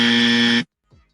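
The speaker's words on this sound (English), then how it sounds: "let's give her the dummy buzzer again" A single harsh game-show wrong-answer buzzer blares loud and close for just over half a second, then cuts off abruptly, leaving a brief faint tail.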